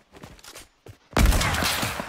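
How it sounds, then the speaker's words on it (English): Fortnite gunfire, a few quiet footsteps or taps followed by a sudden loud burst of rapid shots that continues to the end. "Why are you trying to shoot him?"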